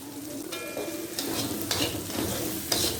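Onions with sugar and salt frying in hot oil in a pan, sizzling steadily while a utensil stirs and scrapes in a few distinct strokes, fairly close and moderately quiet.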